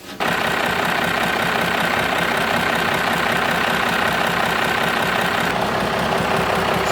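12-valve Cummins diesel engine cranking and catching, then settling into a loud, steady clattering idle close by with a rhythmic knock, no voices.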